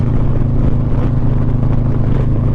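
A car fitted with a Chromeworks exhaust drones loudly and steadily at close range, a deep constant rumble under throttle with no talking.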